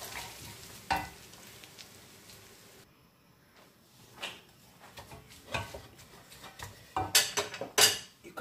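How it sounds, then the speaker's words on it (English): Spaghetti carbonara being mixed with its sauce in a pan off the heat: soft stirring and scraping, light wet sizzle and scattered clinks of utensil against pan, quiet and close with no talking. "Mix thoroughly and off the heat. And continue mixing."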